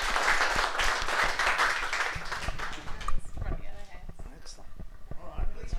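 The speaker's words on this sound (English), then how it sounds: "Do we not give them a bit of a round of applause?" Audience applause at a hackathon main event, dense clapping for the first three seconds that thins into scattered claps with voices talking over the tail.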